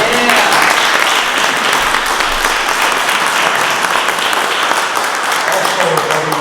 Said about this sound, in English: Let's give a round of applause to Tom Pellerino from KTV.